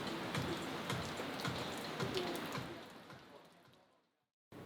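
Steady rain falls during a thunderstorm at Koh Samui, Thailand, a dense even hiss of drops that fades gradually away before a brief return of noise at the very end.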